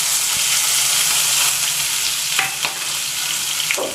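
Asafoetida, chopped green chili and ginger fry loudly in hot oil with a continuous sizzle, and a spoon clacks and scrapes against the pan as it stirs. No one speaks.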